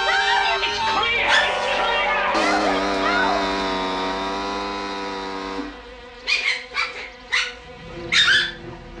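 A dog yelps and whimpers in a long, high, strained cry, followed by several short sharp barks or yips, close and loud.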